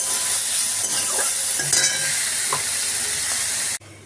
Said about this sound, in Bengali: আর কড়াই ঘি দিলাম, ঘিয়েতে চিংড়ি মাছটা খুব ভালো অল্প করে।